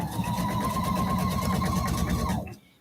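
Sewing machine stitching a seam through two layers of quilt fabric, a steady fast mechanical whirring with rapid regular needle beats, close and loud, stopping abruptly near the end.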